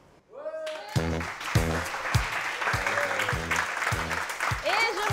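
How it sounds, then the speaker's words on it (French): A French television studio audience at a dating show claps, bursts of applause swelling in and continuing under a presenter's voice. "Sous vos applaudissements."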